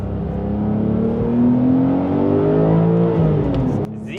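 A Porsche 911 Sport Classic with a manual gearbox, rear-wheel drive, twin-turbo engine, sport exhaust and particulate filter revs up loud and close, its exhaust note climbing and holding before cutting off abruptly near the end.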